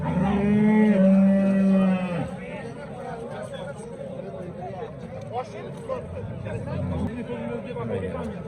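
A cow lets out a loud, drawn-out moo near the start at a livestock bazaar in Gurumsaroy, Pop district, Namangan region, Uzbekistan, then a busy crowd chatters and murmurs in the background.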